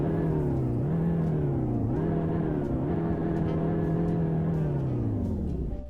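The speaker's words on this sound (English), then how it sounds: "Now let's get a little rev." A 2025 Honda CR-V engine in the Roblox game Greenville revs steadily for about six seconds, a loud, close, continuous drone that rises and dips several times before easing off at the end, with no talking.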